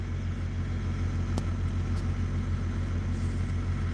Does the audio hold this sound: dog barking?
no